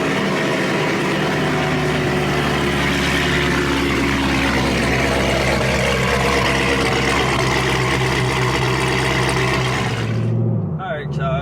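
Steady, loud lumpy idle from a cammed C7 Corvette, its choppy cam rumble droning on close by for about ten seconds before cutting off near the end.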